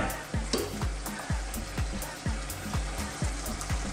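Tomato paste sizzles in a pan of beef chili con carne, with a spoon scraping and stirring in a quick regular rhythm of about two strokes per second over a constant close hiss.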